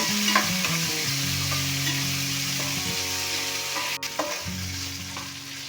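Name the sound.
onions frying with ginger garlic paste in a pan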